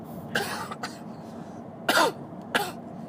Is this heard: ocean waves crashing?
no